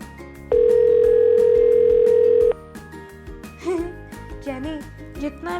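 A steady telephone dial tone sounds for about two seconds, loud and continuous, then cuts off as background music and a voice continue.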